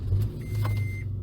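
A 2004 Infiniti G35X engine comes to life with a brief low, steady rumble close by, with a faint thin tone riding above it for a moment.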